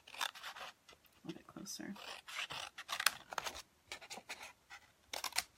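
Scissors snip and rasp through a handmade paper gift tag in short repeated bursts, close to the microphone, while a person talks over the cutting.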